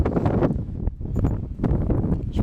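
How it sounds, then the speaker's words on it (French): Strong wind buffeting a microphone outdoors in Québec: loud, gusty low rumble that surges and drops in uneven bursts, close and harsh, with no speech. "Je sais pas si on entend le son comme il faut ou si on entend juste hop, le vent."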